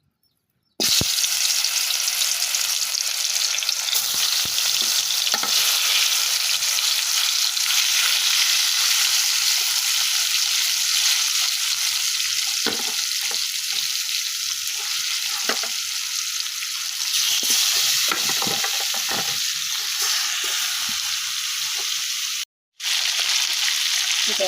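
Broiler chicken pieces dropped one by one into hot salted oil in a wok, giving a loud, steady hiss of sizzling frying that carries on unbroken, with a brief cut near the end and no talking.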